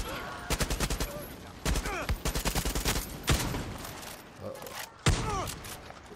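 Rapid bursts of gunfire from a Far Cry 6 firefight, loud repeated volleys with heavy booming shotgun blasts near the middle and end, with a character voice talking between shots.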